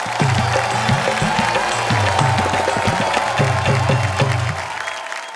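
A studio audience at a late-night Hindi comedy and poetry show applauds steadily, a dense wash of clapping with a low rhythmic music beat underneath, fading slightly at the end.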